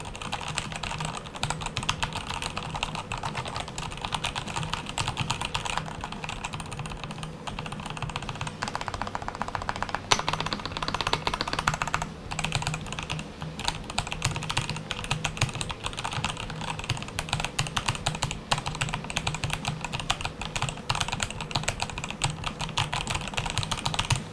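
Rapid, steady typing on a wireless mechanical keyboard with Kailh Red switches, soft clacky keystrokes in a dense continuous stream, close up and alone.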